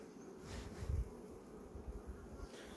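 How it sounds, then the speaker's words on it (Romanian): A swarm of honeybees near rapeseed fields gives off a continuous low droning buzz, fairly faint and distant, swelling slightly at moments with no talking. "Ăla-i tot acolo, roiul ăla."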